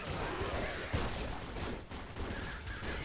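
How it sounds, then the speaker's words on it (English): Chained explosions from heavy weapons in Nuclear Throne with the Ultra Mod, a steady, dense roar of blasts and gunfire crackle that runs without pause for the whole stretch at moderate loudness. "Just walk near things and they all start exploding"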